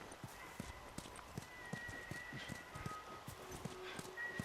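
Horses walk with steady hoof clip-clops and an occasional whinny in The Last of Us Remastered video game, soft and fairly quiet against a faint game background.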